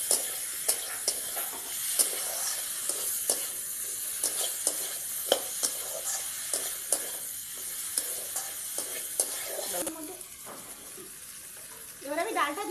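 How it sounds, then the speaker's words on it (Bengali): Spiced water poured into a hot pan for dal sizzles and hisses steadily, with regular light stirring clicks and scrapes, fading quieter near the end before a brief burst of stirring. "একটু প্রথমে মশলা জলটা দিয়ে দিলাম।"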